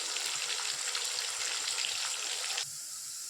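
Thin, long-cut slices of bitter gourd, half a kilo, crackle and hiss steadily in hot oil, a bright dense sizzle that suddenly drops to a quieter simmer near the end.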